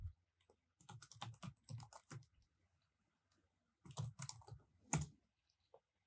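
Typing on a computer keyboard while entering a product name into a Power BI Desktop report, heard as close, bursty runs of key clicks separated by short pauses.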